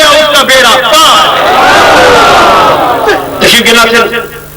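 A crowd at a religious gathering answers a call to chant Naara-e-Takbir, many voices roaring together in a loud, sustained response that swells and then fades with scattered shouts.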